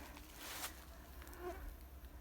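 A swarm of flying insects buzzes around someone picking mushrooms in a forest, a faint, close, continuous whine that swells and fades over a couple of seconds, with no talking.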